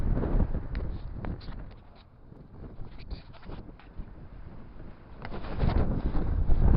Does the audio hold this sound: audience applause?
no